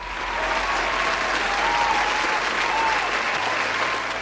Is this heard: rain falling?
no